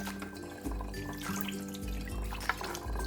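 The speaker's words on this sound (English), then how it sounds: "Rinse the prepared pork ribs well." Tap water runs steadily into a kitchen sink while pork ribs are rinsed under it, a continuous close splashing flow with small irregular clunks and drips, no voices.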